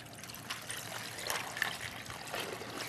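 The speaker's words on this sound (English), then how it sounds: "Now I'm going to take the ice and I'm going to add some water to it" Water poured into a bowl of ice in a studio kitchen, a steady close trickling stream with light splashes and faint ice clinks, soft and continuous for a few seconds.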